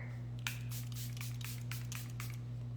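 Makeup setting spray is misted generously onto a face in a quick series of about seven short, hissing spritzes, close and fairly clear over a steady low electrical hum.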